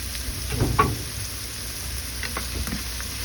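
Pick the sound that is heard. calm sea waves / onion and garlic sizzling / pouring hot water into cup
onion and garlic sizzling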